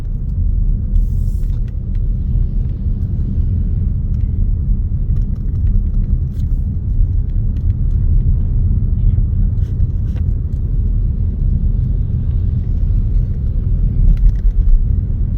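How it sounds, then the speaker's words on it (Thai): Tourist vans drive into town on a misty morning street in Luang Prabang, a steady low engine rumble and road noise passing nearby, with faint clicks and a voice speaking over it. "รถตู้แกนักท่องเที่ยวเนาะ กำลังลังไล่กันเข้าไปเขตในเมือง"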